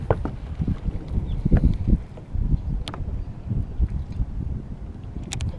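Strong wind buffets the microphone outdoors on the water during a springtime bass fishing trip in Central Florida, a continuous low rumbling roar with gusts and a few faint rustles, no voices.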